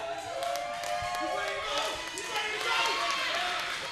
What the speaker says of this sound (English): Listen to the crowd, ladies and gentlemen